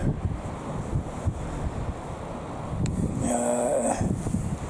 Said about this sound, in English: But there is such a strong wind here